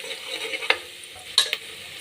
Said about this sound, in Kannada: ಇದಕ್ಕೆ 1 ಸ್ಪೂನ್ ಖಾರದ ಪುಡಿ, 1 ಸ್ಪೂನ್ ಧನಿಯಾ ಪುಡಿ ಹಾಕಿ ಮತ್ತೆ ಫ್ರೈ ಮಾಡೋಣ.